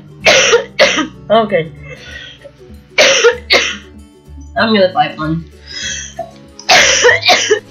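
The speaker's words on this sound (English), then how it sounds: "I had a major cough attack," Several harsh coughs burst out in quick succession, close and loud, mixed in with a person talking.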